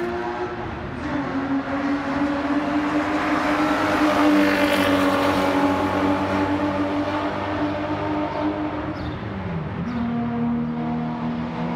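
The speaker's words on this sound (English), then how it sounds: "Got some cars coming around the track here." Race cars including Porsches, Ferraris and Corvettes roar steadily around Circuit of the Americas, a loud continuous drone with shifting pitch, no talking.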